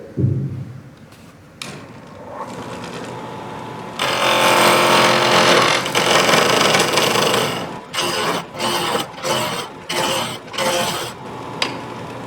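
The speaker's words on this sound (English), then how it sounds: "You always spin your lathe to make sure it's not going to hit anything" A wood lathe spins a small Christmas ornament blank in a woodworking club shop, its whirring hum starting faint, swelling into a loud steady rasp, then breaking into several short bursts as it starts and stops.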